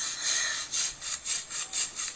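A large carving knife saws back and forth through something in steady, rasping strokes, about seven in a row at an even rhythm, close by with no talking.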